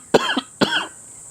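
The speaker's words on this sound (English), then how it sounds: "Deeply cough 4 times into your mouth." Two sharp coughs in quick succession for a rapid antigen test, close and clear, with a short pause between them and quiet afterward.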